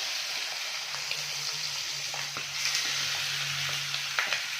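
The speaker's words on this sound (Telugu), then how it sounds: "నేను డైరెక్ట్ ప్యాన్లో వేసేస్తున్నాను" Chicken liver frying in a pan, a steady hissing sizzle with crackles and small pops that runs unbroken throughout and sits close and moderately loud. No voices are heard.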